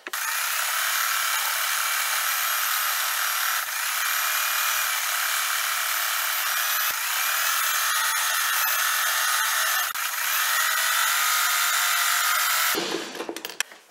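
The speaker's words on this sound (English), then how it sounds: "I'm going to go to the machine and sew close to the edge all the way around." A sewing machine runs close along the edge of a wonky-stripes crazy quilt block, a steady, bright motor whir held almost continuously for about thirteen seconds before cutting off abruptly.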